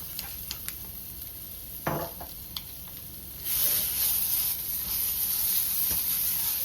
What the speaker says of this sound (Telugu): ఇది కూడా కొంచెం పచ్చివాసన పోయే వరకు నేను ఒక్కసారి ఫ్రై చేస్తున్నాను